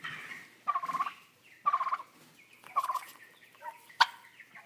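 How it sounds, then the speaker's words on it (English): A male turkey gobbles in several short, warbling bursts with brief pauses between them, close and fairly loud, ending in a sharp high call. "Hear the funny sounds that he makes? All of these sounds have meaning to a turkey."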